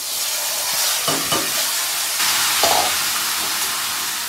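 Kohlrabi frying in hot oil with whole chillies, cumin seeds and turmeric gives a steady close sizzling hiss, broken by a couple of brief stirring scrapes.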